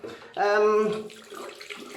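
Warm tap water runs briefly from a faucet into a sink as a face is wetted before shaving, a short close gush followed by faint splashing and hand sounds.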